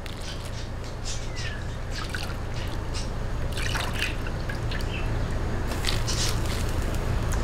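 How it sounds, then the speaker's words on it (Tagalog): Palabok pasta going into a pot of rapidly boiling water, with a steady bubbling rumble and scattered light splashes and drips continuing evenly throughout. "pagka po ganitong kulong-kulo na yung tubig, lalagay na po natin yung ating palabok pasta"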